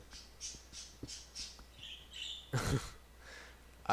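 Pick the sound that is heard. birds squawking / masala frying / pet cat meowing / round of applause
birds squawking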